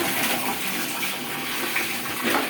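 Water gushes steadily over a beagle's belly during a bath, a close, continuous splashing pour with no pauses.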